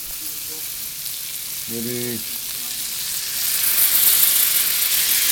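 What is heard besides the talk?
garlic sizzling in melted butter in a pan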